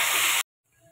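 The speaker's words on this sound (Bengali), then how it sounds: "কাঁচা লঙ্কা দিয়ে দিচ্ছি 3-4টা ফেরে" Three or four green chilies hit hot oil in a pan for a paneer and potato curry, giving a loud, steady sizzle that stops suddenly halfway, followed by faint kitchen noise.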